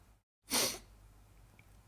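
A single sharp sneeze bursts out close to the microphone during a livestream of miniature painting, preceded by a brief silent pause and followed by quiet room tone.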